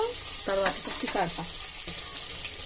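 Ingredients for chukka kura frying in a pan, a steady sizzle running under a brief burst of voiced talk near the start.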